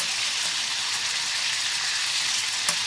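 Pork leg frying in hot oil for a Thai tom yum dish, a loud, dense, continuous sizzle like heavy rain, close and steady, with one small pop near the end.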